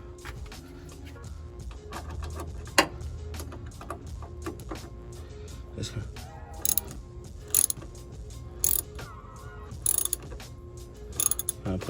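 Ratcheting and clicking from tightening clamps on the coolant hoses of a Cummins ISX 15 engine, with sharp metallic clicks in short bursts over a steady low mechanical hum, close by.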